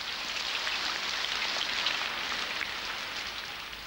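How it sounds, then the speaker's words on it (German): Steady, dense rain falls across the drought-stricken Sertão of northeastern Brazil, an even broadband hiss of drops on surfaces that holds constant for the whole span with no voices. "Der Regen hat das Gesicht des Sertão verändert"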